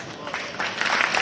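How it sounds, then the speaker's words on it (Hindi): Scattered audience clapping at a Diwali fancy-dress distribution ceremony in Pushkar, building from sparse claps to fuller applause, moderately quiet and somewhat distant. "तो इसके लिए ताली हो जाए।"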